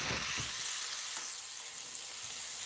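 Swedish meatballs frying in a pan give off a soft, steady sizzle with faint crackles, quiet and continuous with no talking.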